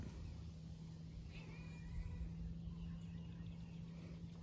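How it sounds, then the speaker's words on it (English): A cat meows faintly a few times outdoors on a residential walk, thin cries rising above a steady background hum and low rumble. "what's that cat crying for? I don't know why that cat's crying."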